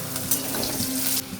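Whole cumin, dry red chilli, two bay leaves and four green chillies sizzle and spit in hot oil for dal, a loud close crackling fry throughout, with no talking.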